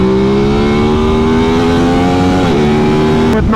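Aprilia RS660 middleweight sportsbike engine pulling hard in second around 6,000–7,000 rpm, a loud steady rising howl with a brief dip near the end, no talk.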